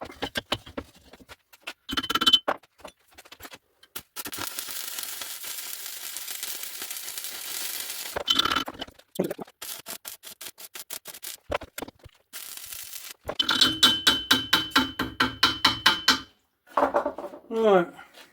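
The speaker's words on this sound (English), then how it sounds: "I need to turn the welder up a little tiny bit" Arc welding on an engine and gearbox job, bursts of crackling, sizzling weld runs alternating with pauses, clanks and brief talk nearby, with a stretch of rapid rhythmic pulsing toward the end.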